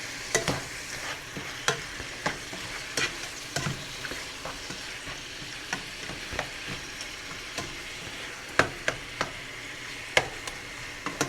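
Steak bites frying in a hot pan, a steady close sizzle broken by frequent sharp clicks and taps of a utensil stirring and turning the meat, with no talking.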